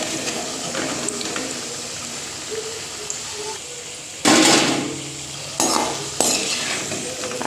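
Potatoes frying in oil for chicken dum biryani, a steady low sizzle with stirring, broken by several loud bursts of clattering and scraping as the pieces are moved.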